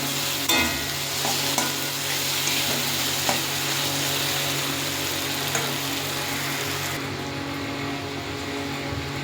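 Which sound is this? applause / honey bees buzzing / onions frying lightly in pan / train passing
onions frying lightly in pan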